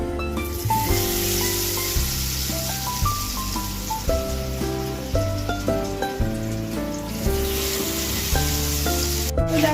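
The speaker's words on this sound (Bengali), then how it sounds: "এবার যে মাছটা ম্যারিনেট করে রেখেছিলাম ওটা ডুবো তেলে আমি ভেজে নেবো" Marinated, battered Bombay duck fish deep-fries in hot oil, a constant bubbling sizzle running beneath louder melodic background music throughout.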